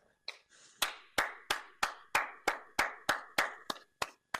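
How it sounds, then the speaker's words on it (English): Two hosts clap for themselves at the close of their first podcast episode: about a dozen crisp, evenly spaced hand claps, close and fairly quiet, with no talking over them. "Just have to give ourselves a round of applause because this was our first episode."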